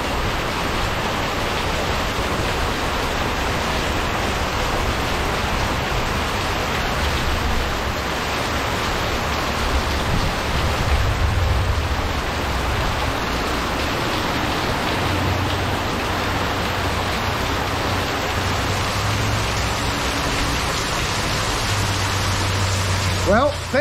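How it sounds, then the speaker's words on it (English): Heavy rain pours down sideways in a summer Florida storm, a dense, loud, unbroken roar of water that runs the whole time, with someone talking faintly beneath it. "This is probably 2 minutes of rain and it's coming down sideways here."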